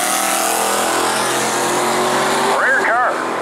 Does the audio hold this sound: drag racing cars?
yes